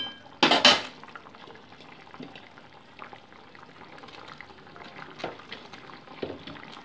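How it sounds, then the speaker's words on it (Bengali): Fried boal fish pieces being dropped into a pot of boiling curry, a sharp loud clatter and splash at the start followed by soft bubbling and occasional utensil clinks, close by. "তো এবার ভেজে রাখা মাছের টুকরোগুলো এর মধ্যে কিন্তু অ্যাড করে দিচ্ছি আমি।"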